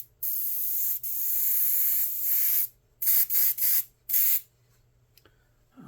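An airbrush sprays paint onto a T-shirt in sharp hissing bursts, a couple of long sustained sprays followed by several short rapid puffs, close and loud, with silence between them.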